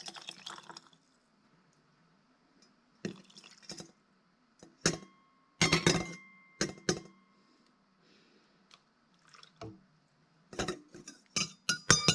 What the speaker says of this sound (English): We've got our first jar ready and ready to go here with the pouring of the cowboy candy.